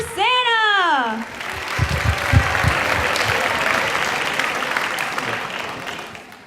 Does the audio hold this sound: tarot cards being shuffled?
no